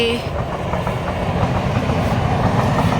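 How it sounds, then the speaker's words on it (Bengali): A train rumbles past at close range, a loud steady low roar with a faint rhythmic clatter of wheels, continuous throughout, and a person speaks over it. "আর ওই দেখো ট্রেন যাচ্ছে"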